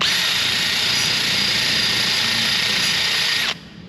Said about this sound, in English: take a wire brush on the end of a drill and watch this